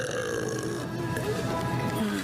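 A person gives one long, loud, drawn-out burp up close that rumbles steadily for a couple of seconds.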